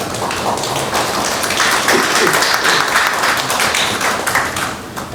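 Congregation clapping at a general assembly of a Jeonju church elders' association, a continuous crackling patter of many hands that swells in the middle and eases off toward the end, loud and close.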